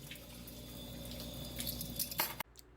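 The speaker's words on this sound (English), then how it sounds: "And then you're going to also add 2 tablespoons of water." About two tablespoons of regular water are poured into a bowl for dalgona coffee, a faint, short trickle and splash that ends abruptly.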